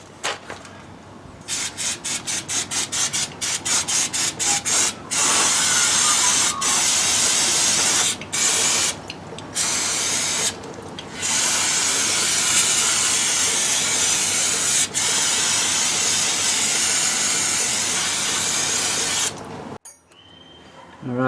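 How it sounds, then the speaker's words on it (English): Brake cleaner sprays in loud, close hissing bursts onto the dusty brakes of a Triumph 2500 MK I. A run of short rapid spurts comes first, then long continuous blasts with brief pauses, and the spray stops abruptly near the end. "So this is brake clean stuff. This is just going to get rid of all the dust."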